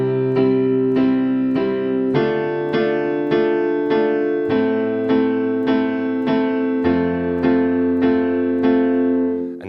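Piano playing the chorus chords of a song, each chord held twice as long in a steady quarter-note rhythm, with about a dozen evenly spaced, sustained chord strikes that sound clear and close.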